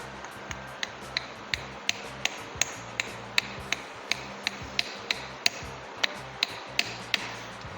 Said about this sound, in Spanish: Con el martillo de nylon.